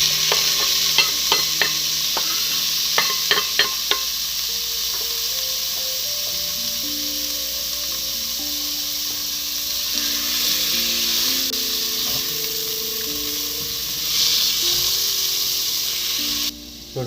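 Tomatoes go into onions frying in a pan. A few sharp clinks at the start give way to a continuous close sizzle with stirring, while music plays underneath.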